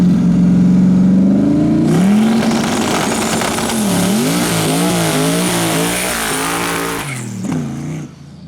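Twin-turbo Ford Crown Victoria launches on a no-prep track, its engine held at about 1500 RPM on the line, then revving hard with tire spin as the sound rises and wavers loudly before cutting off near the end.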